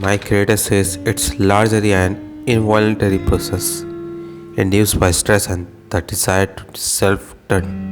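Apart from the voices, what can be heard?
No everyday noises stand out.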